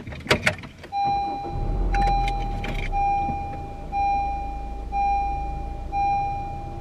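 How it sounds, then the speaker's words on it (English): A car engine starts after a brief jangle of keys and settles into a low idle, while a repeating electronic warning chime beeps at a steady pace over it. "I'm gonna start my car. Let's hear how it sounds."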